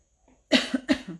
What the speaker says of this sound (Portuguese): eu tive que tossir que eu fui ficando rouca